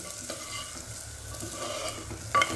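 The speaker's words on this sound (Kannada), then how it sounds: "ಇವಾಗ ನೀಟಾಗಿ ಇದನ್ನೆಲ್ಲ ಹುರ್ಕೊಳ್ಳೋಣ." Spices with chili powder and coriander powder frying in a pan, a continuous close sizzle with spatula stirring and a sharp clink near the end, no voices.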